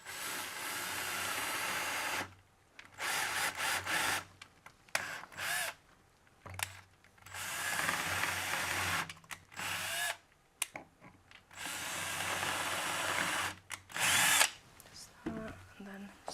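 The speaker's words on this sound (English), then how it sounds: "So I'm just going to do some quick holes in here and then just screw it in from the bottom." A power drill bores quick holes in wood in several short bursts, each a whining, grinding run of a second or two separated by pauses, close and fairly loud.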